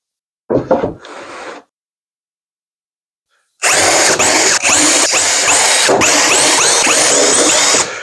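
A power drill drives screws into double-sided, UV-coated plywood: a couple of short scraping bursts, a pause, then loud, sustained whirring and grinding close by, with no talking.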